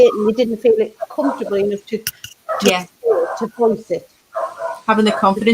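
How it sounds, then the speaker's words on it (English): A household dog barks a couple of times in the background, short sharp yelps partly masked by a person talking steadily in the foreground. "So if you can hear my dog barking"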